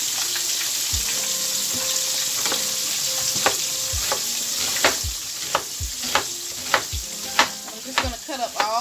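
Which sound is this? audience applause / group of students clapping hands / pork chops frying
pork chops frying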